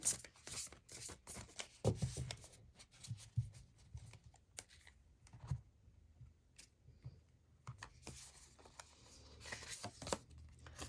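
Shaman Dream Oracle cards are shuffled by hand in soft, irregular riffles and slides, close and quiet, with brief pauses and light handling rustles between bursts.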